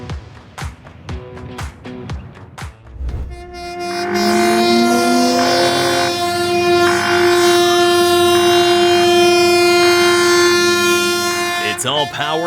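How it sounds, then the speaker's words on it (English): A snowplow train forcing its way through a snow drift, a loud sustained horn blaring over heavy rumbling after a few sharp clanks, a voice talking briefly. "This train's got one job: plow through, no matter how big the drift gets."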